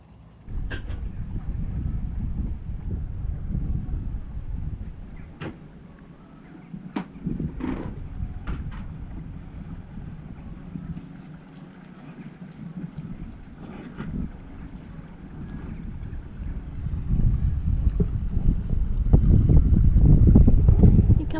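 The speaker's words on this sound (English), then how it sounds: "Ernie, you come to watch the boats as well." Boats chug slowly along a canal under gusty wind noise, heard from a moored widebeam narrowboat, with low engine rumble swelling and fading and occasional knocks and clatter.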